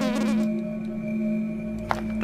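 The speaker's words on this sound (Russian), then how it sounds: "Вот тут еще муха." A fly in the horror game Bad Dream: Graveyard gives off a steady, close buzzing drone with a sharp click partway through, alone without voices.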